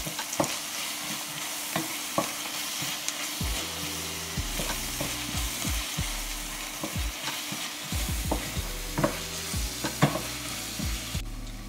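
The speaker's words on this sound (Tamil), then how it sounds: "இப்ப நம்ம வந்து இஞ்சி பூண்டை போட்டு கலக்கி விட்டுக்கணும்." Ginger-garlic paste stirred into softened onions in a frying pan for chicken leg gravy, a steady sizzle with repeated scraping strokes of the spoon across the pan, close and fairly loud, no voices.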